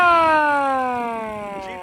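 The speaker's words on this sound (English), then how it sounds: "Jeep siren, and what I did is I put a remote button on it, which is on my belt." A siren mounted on a Jeep and set off with a remote button winds down in a loud, close wail, its tone sliding slowly lower as it fades.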